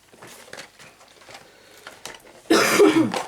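After a stretch of faint rustling and handling noises, a single loud, close cough bursts out near the end.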